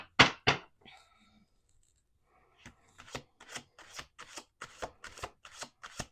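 Tarot cards are shuffled close up in quick riffling bursts, two sharp ones at the start, then a pause, then a run of softer rhythmic riffles.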